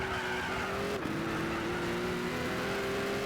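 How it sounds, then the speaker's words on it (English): A race car engine in Gran Turismo 6 revs with a steady, tonal whine, briefly dipping and then climbing again amid tire and road noise, loud and continuous with no talk. "What a mean sounding car."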